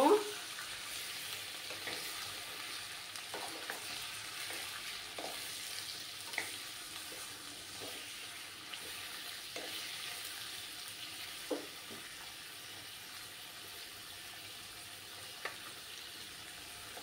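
Mutton masala curry being stirred in a frying pan, a low steady sizzle with soft periodic scrapes and knocks of the spoon repeating every second or so, fairly quiet throughout.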